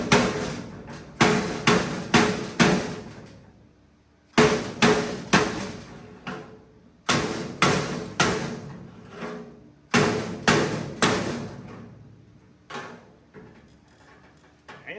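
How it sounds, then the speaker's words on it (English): Repeated sharp hammer blows on metal, struck in quick bursts of four or five with short pauses between, loud and close, shaping a running board on a 1947 Diamond T pickup. "We're gonna get to do some good old hammering right here"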